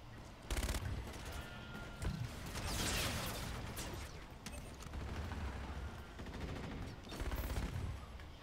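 Dual-wielded M.2187 Salvo shotguns blasting in a Call of Duty match, several heavy bursts of fire with mechanical clatter between them, loud and dense against a busy game background.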